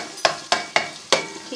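Garlic-ginger paste frying in ghee for chicken macaroni, close and clear, with four quick stirring strokes that each scrape and clack over a short burst of sizzle.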